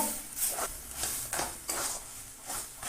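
A spoon scrapes and stirs taro leaves cooked with fish head and a little sugar in a pan, with soft rhythmic strokes about twice a second and a faint sizzle underneath, quiet and close, no talking.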